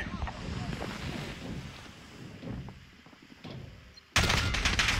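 Gunfire in a Modern Warfare multiplayer match, loud bursts of shots mixed with wind-like rushing noise and distant battlefield clatter, ending in a sudden louder blast.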